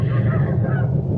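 Geese honk inside a barn on a stormy night, a loud, continuous, close cluster of nasal calls.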